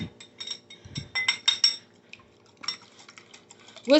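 Eggs being whisked with a dash of pepper and salt for keto loaded veggie eggs, heard as quick clinking and scraping of a utensil against a bowl in short bursts, fairly close with brief pauses.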